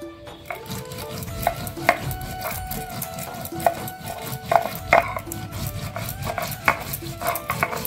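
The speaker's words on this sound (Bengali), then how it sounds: "এখন সরষেটা বেটে নেব।" White mustard seeds are ground by hand into a paste, a close, rhythmic rubbing and scraping with repeated gritty strokes and small knocks that continue without pause.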